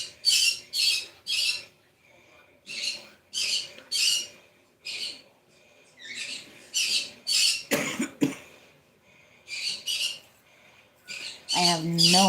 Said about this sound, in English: my birds are in a whole mood because I dared to leave the living room